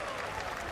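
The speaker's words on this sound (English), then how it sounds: "Some cheering there." Cheering and clapping from a crowd watching the New Glenn rocket launch, a brief, dense wash of noise at moderate level, with no break in it.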